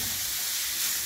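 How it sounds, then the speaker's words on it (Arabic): Minced meat frying in a few spoonfuls of oil for Syrian ouzi, a steady bright sizzle and hiss close by, even and unbroken, with no voices. "كم معلقة زيت خلي تنقلى لحمتنا"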